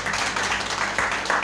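An audience applauds to welcome a speaker at a film screening and debate, a dense, continuous patter of many hands clapping in a room, fairly loud and steady throughout.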